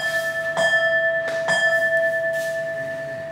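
A temple-style bell is struck at a bonsai display, ringing with a sustained metallic tone, with a second strike about a second later and a lighter tap after that.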